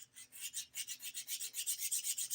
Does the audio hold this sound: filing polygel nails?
yes